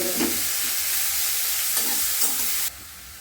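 Shredded cabbage frying in a pan with a constant crackling sizzle, while a spatula scrapes and stirs it in a few distinct strokes, close up and with no voices.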